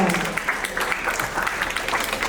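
An audience applauds a speech by KP Oli with dense, sustained clapping that stays fairly loud and even from start to finish.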